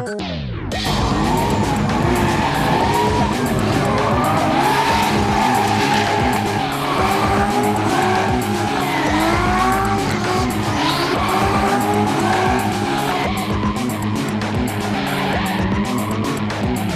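A Nissan S14 drift car with a 2JZ engine roars loudly while its tyres squeal continuously through a long slide, sustained and close for the whole stretch.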